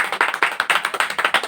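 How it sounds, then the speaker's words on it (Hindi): Loud, close clapping from a church audience, a rapid steady rhythm of sharp claps, roughly a dozen in quick succession with no talk over it. "परमेश्वर के लिए जोरदार ताली बजाओ"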